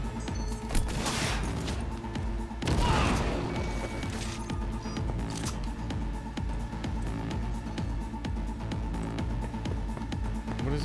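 Grenade blasts in Cyberpunk 2077 gameplay: two heavy booming explosions land a couple of seconds apart amid a dense, continuous wash of crackling gunfire and battle noise.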